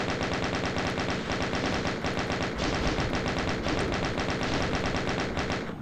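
Rapid, continuous weapon fire in the DooM video game, a relentless stream of loud, punchy shots with no pauses, accompanied by steady game music and clattering effects filling the whole stretch.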